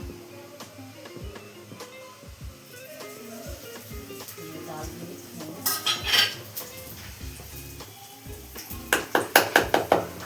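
Batter for aloo bonda is beaten in a metal pot, with spoon clinks and scraping that grow into quick rhythmic clatters toward the end, while a voice speaks in the background.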